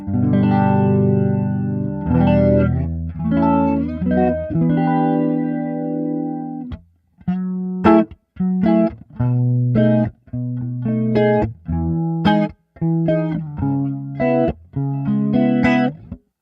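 Electric guitar playing through an AmpliTube 5 Max amp simulation with the EQ turned all the way up, first sustained chords, then choppy rhythmic strums with a warbling, boosted tone.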